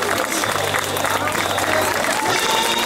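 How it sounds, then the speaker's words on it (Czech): A crowd at a town run in Hrotovice applauds young runners after a boys' 100-metre race, with continuous clapping throughout and voices talking over it. "Velký potlesk těmhle malým velkým závodníkům."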